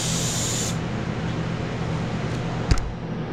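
Airbrush spraying a coat of solvent-based paint onto a test panel, a steady close hiss of air throughout with a brief click near the end.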